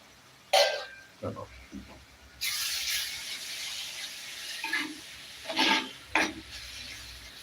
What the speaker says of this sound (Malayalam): തക്കാളി ഇട്ട് നന്നായിട്ട് ഇളക്കി കൊടുക്കട്ടോ